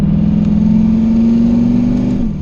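A modified Chevstang car engine accelerating hard in second gear, a loud, steady, close roar with a strong low drone that holds throughout and eases off right at the end.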